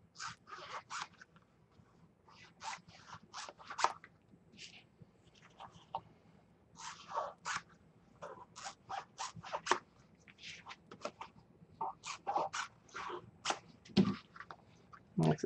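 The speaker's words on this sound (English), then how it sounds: "I love those scissors." Craft scissors snip through paper or card in quick bursts of crisp, close cuts, irregular clusters of sharp clicks with short pauses between them, no talking.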